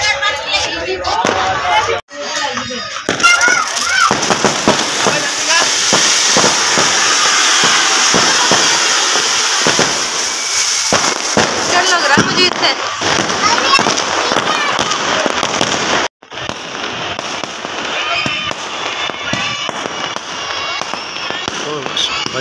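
Firecrackers and fireworks bursting continuously during an Independence Day celebration in Wazirabad, with dense crackling and popping bursts nearby, a brief pause near two seconds and another near sixteen seconds.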